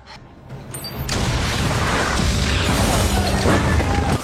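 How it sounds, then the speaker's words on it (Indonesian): Planted explosives at a base go off in a film scene: a sudden loud boom erupts after a brief quiet moment, then a dense, sustained roar of blast and debris follows. "Peledak yang telah dipasang Scott di markas ini langsung dia ledakan"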